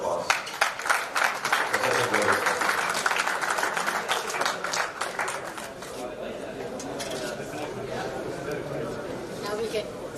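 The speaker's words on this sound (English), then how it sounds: "Can we have a big round of applause?" An audience at an industry business interaction event in Ludhiana breaks into dense clapping that swells and then thins toward a softer patter, with talk and chatter mixed in.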